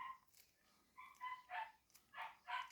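American Akita puppies yipping and barking: a string of short, high, faint yelps in quick bursts from a little distance, with no talk over them.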